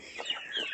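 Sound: chickens clucking

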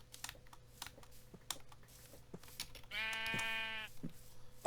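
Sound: sheep bleating in the video game Minecraft

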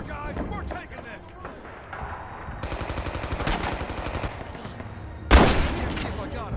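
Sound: gunfire in video game Rising Storm

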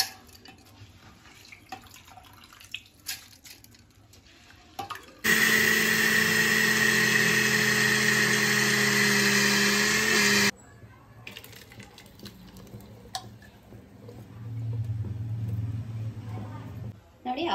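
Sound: mixer grinder grinding soaked rice for thatte idli batter

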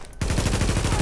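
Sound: sniper gunfire in video game The Division

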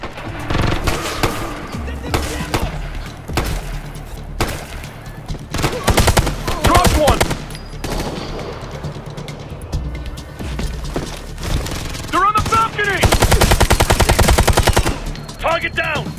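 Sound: gunfire in the video game Ghost Recon Future Soldier

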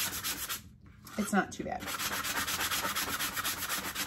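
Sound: sanding a wooden tobacco basket

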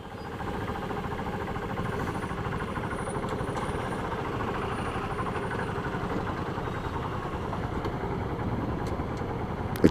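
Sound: Honda Biz motorcycle engine idling in neutral

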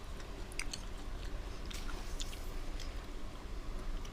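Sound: chewing food while eating

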